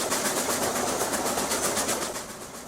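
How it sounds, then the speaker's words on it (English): A train in the Transport Fever 2 video game climbs steep grades, giving a steady rail hum with a faint rhythmic clatter that fades slightly toward the end. "The train will then climb up the steep grades once again."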